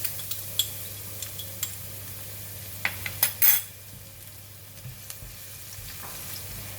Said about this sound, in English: Oil is getting hot. I'm putting in the garlic.